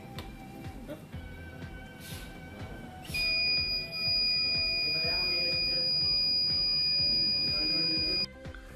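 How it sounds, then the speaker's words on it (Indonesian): An SFM27 buzzer gives out a loud, steady, high-pitched continuous tone for about five seconds, starting a few seconds in and cutting off sharply, over a faint background hum. "buzzer SFM27, buzzer ini cukup nyaring dan sangat fleksibel"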